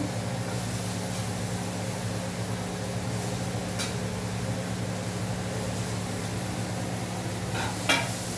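Cluster beans frying in a hot pan, a steady dense sizzle with occasional stirring scrapes and a sharper clatter near the end, no one talking.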